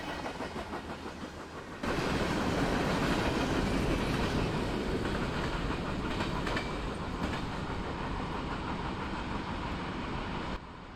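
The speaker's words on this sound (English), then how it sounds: "EVE-LVJ is a southbound train transporting manifest freight from the Delta Yard in Everett, Washington to Longview Junction" Southbound manifest freight train passing near Tenino, Washington, a steady broadband roar of railcars with clickety-clack wheel noise, loud and continuous, dropping slightly near the end.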